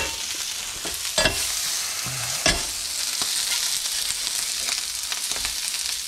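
Birria tacos soaked in lamb neck broth frying on a griddle, a steady close hiss of sizzling oil with a few sharper pops and scraping clicks, no voices.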